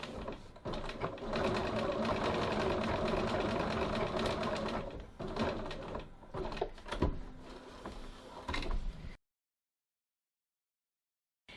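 A sewing machine runs close and loud as it back tacks a pocket seam, its stitching rattle shifting with short pauses before it stops and silence follows.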